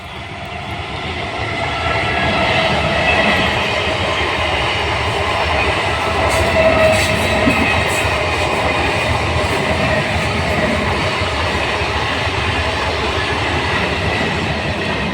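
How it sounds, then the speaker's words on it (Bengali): A train rolls steadily past a field of banana plantations near Krishnanagar, a loud continuous rumble with rail clatter holding for the whole stretch and no voices over it. "এ দেখো বন্ধুরা, ট্রেন চলে এসেছে, ট্রেন দেখো"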